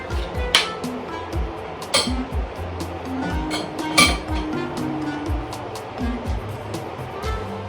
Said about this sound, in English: So right now I'm going to fill up the bottles with the apple butter.